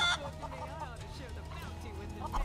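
Hens cluck in a farmyard scene from the video game Final Fantasy VII Rebirth, a run of short, close clucks and warbles heard under game speech.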